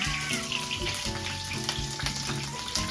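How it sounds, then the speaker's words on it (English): Vegetables fry in a pan for shakshuka, giving a loud, steady sizzle and crackle with bursts of spattering throughout, and no one speaks over it. "We're frying veggies today."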